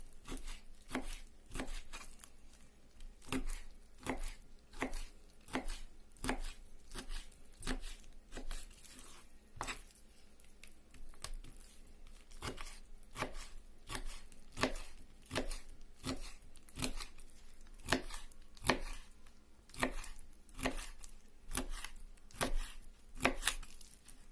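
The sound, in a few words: cutting fish with a Yakut knife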